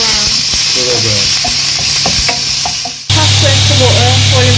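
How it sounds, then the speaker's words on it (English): Onions and garlic sauteing in a pan for a sausage and pasta bake, a loud steady sizzle with intermittent stirring scrapes and clinks, briefly dipping before the frying hiss returns stronger. "And we just saute these for a little while, do they?"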